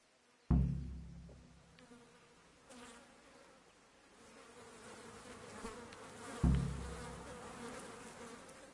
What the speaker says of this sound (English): that's the first time I've had that buzzing noise right in my ears